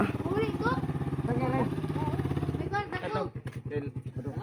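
A single motorcycle carries riders toward a resort in Abuyog, Leyte, its steady engine drone running close and loud throughout while people talk and call out over it.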